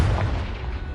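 A Confringo fire spell explodes in the video game Hogwarts Legacy: a single loud, deep boom that hits at once and rumbles away over about a second.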